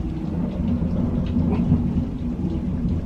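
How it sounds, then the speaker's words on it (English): A low, steady rumble of thunder rolls beneath a hiss of rain, with no voices. "Do y'all hear that thunder?"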